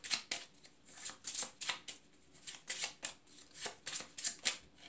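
Tarot cards are shuffled in steady, repeated riffles, each a crisp papery burst, close and fairly quiet with no talking.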